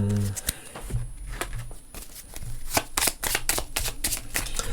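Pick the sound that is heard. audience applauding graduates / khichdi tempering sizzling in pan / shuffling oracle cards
shuffling oracle cards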